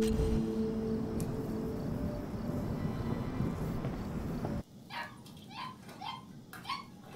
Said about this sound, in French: Le chien, il aboie de ouf.